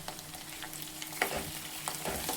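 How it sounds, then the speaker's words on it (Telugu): Potatoes and coconut fry in a pan with a steady close sizzle, broken by a few scraping stirs of a spoon against the pan, with no voices. "తర్వాత ఆలు, కొబ్బరి 2 కూడా వేసి ఫ్రై చేసుకోవాలి."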